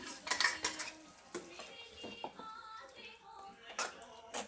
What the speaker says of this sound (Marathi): हे बघा हे सगळं मिक्स करून घ्यायचं.